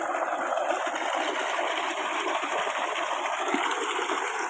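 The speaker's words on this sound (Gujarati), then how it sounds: "કેટલી મોટર પાણી કાઢે છે જોઈ લો" Water gushes steadily from a motor pump on a farm, a dense, continuous rushing splash held at one level close by for the whole stretch, with no voices heard.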